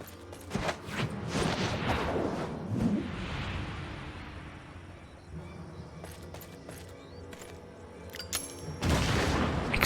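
An explosion in the video game Final Fantasy XIV bursts out early with sharp cracks, then a rumbling roar that slowly fades, followed by scattered impacts and a second loud burst near the end.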